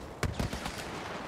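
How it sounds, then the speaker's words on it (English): An AT-ST walker fires in the Star Wars Battlefront video game, producing a quick burst of several sharp blaster shots over about a second amid game background noise. "There's a chicken walker shooting at us"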